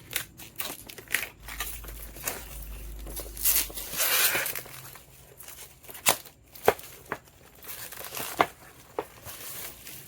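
Packaging of an S10 Ultra 2 smartwatch being cut open, close and fairly quiet, with crinkling plastic, a low rumble and a scattered run of sharp snips and rustles.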